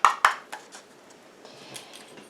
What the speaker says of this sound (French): je prends une cuillère en plastique simplement pour ne pas rayer le fond de ma petite casserole